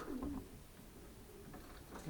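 A pigeon coos softly close by, a low throaty call repeated a few times against faint background hiss.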